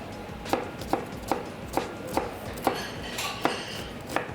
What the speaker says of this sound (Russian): Для этого нам понадобится репчатый лук, мы его порежем на мелкий кубик.